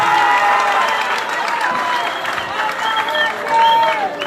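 A crowd at a political rally applauds, a steady wash of clapping that holds at one loud level, with faint whistles or cheers rising through it.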